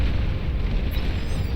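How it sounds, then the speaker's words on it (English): An advanced geothermal plant blowing up in the real-time strategy game Beyond All Reason, heard as a dense, sustained rumbling explosion with heavy low-end roar that stays loud throughout the short moment. "they find that advanced geothermal plant, blow it up"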